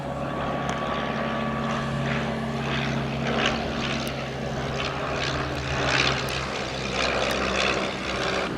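Vintage Desoutter monoplane taxiing at an airshow, its propeller engine giving a steady droning hum with a low rumble that holds throughout at moderate distance.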